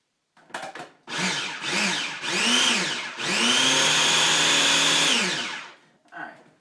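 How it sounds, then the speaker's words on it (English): Blender pulsing basil, walnuts and garlic for pesto, four loud close motor bursts that rise and fall, the last one longest, then a brief final whir. "we have our basil, walnuts, and our garlic. Now I'm going to pulse this really quick."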